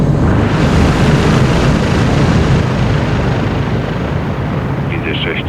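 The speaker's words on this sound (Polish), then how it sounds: "Zbliża się śmigłowiec. Wygląda na zrzut zapasów." Helicopter approaching with a supply drop in Call of Duty Modern Warfare 2: loud, continuous rotor and engine roar fills the scene at close range, staying steady throughout, with a faint high chirp near the end.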